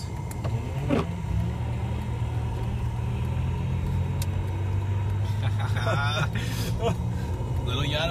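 A small 20-horsepower vehicle on oversized monster-truck rear wheels drives along with a steady, low engine drone that holds for the whole stretch. Brief higher whines and knocks rise over it.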